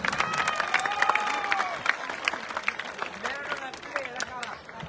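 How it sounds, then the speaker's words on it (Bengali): An audience applauds at a football jersey unveiling for an under-14 ward tournament, with a sustained patter of clapping, a few whistles and scattered cheers, and faint voices mixed in as the clapping fades. "সবাই একটা জোরে করতালি দিবেন"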